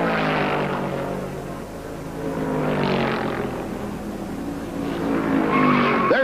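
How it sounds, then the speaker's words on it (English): Stock cars at the 1971 Southern 500 sliding across the fast groove, with tires squealing and skidding over roaring engines in long, wavering rising and falling sweeps that sound loud and fairly close. "Two cars slide across the fast groove"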